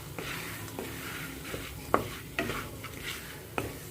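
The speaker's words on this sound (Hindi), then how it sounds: "इसको मिक्स करेंगे और आटे को भी भूनेंगे ऐसे ही कम सेक पर इसके साथ" Flour roasting in a kadai over low heat while being stirred, a gentle sizzle broken by several distinct clinks and scrapes of the utensil against the pan.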